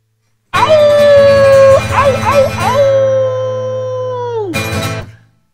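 Several voices howl together in long rising and falling wolf-like cries, loud and close, imitating a wolf, ending with a short final yelp.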